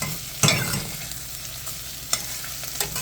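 Onions sizzle and fry in a pan for a green bean dish, a constant close hiss broken by a few sharp scrapes and clinks as they are stirred, no voices.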